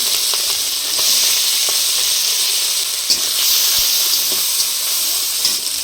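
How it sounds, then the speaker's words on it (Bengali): Shrimp fry in hot white oil, giving a steady, close sizzle with a bright hiss and a few scattered pops throughout. "সাদা তেলটা গরম হয়ে গেছে, এবার দিদি চিংড়ি মাছ দিয়ে দিচ্ছে"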